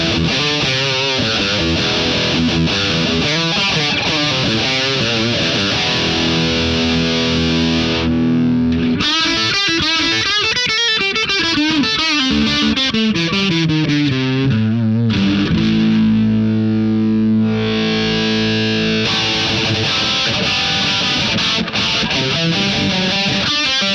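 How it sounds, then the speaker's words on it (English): Electric guitar through a Sansamp-style Transamp drive module in Guitar Rig 6 software, giving a gritty overdriven tone; chords and riffs ring continuously and loud for the whole stretch, with brief breaks in the high end between phrases. "Transamp is a Sansamp style drive."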